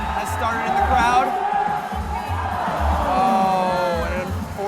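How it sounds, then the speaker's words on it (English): Spectators at a climbing competition chant a climber's name, rhythmic crowd voices pulsing in a steady beat beneath a louder commentator's voice, with scattered cheers. "A Matt Foltz chant has started in the crowd."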